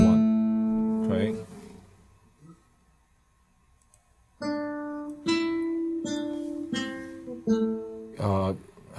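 Guitar playing a short melody phrase in a lesson on second and third position: plucked notes ring out, then a pause, then a run of distinct picked notes, one after another, fairly close and clear.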